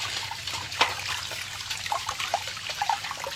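Water trickles and splashes steadily into a bucket, close by and moderately quiet, with small irregular drips and spatters.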